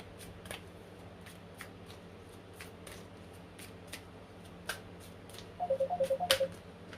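A telephone rings partway through a quiet indoor tarot card reading, a short burst of rapid, evenly spaced electronic pulses near the end, with soft card-shuffling clicks and taps scattered before it.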